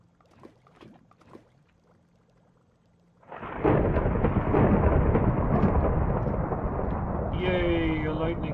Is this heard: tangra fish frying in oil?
no